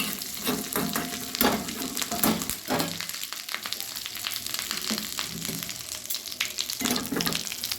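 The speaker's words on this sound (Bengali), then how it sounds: "ছোট্ট একটি কড়াই অল্প একটু তেল নিয়ে আমি কাশ্মীরি লঙ্কার গুঁড়ো দিয়ে পনির আমি মিশিয়ে দেব।" Paneer frying in a small kadai with a little oil and Kashmiri chili powder gives a steady close sizzle, broken by several louder bursts of stirring and scraping. No one speaks.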